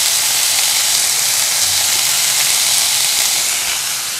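Chicken frying in a pan with garlic, salt and black pepper, a loud steady hiss and sizzle that holds evenly throughout with no talking.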